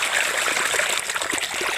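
Water gushes from the outlet pipe of an electric farm pump motor under pressure, a loud, steady splashing rush that runs continuously.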